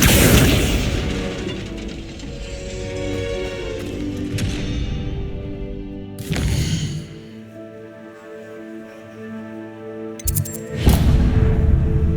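Spells cast in Hogwarts Legacy produce a series of booming, whooshing magical bursts with ringing tonal swells between them, some sharp and loud, others softer, with no talking.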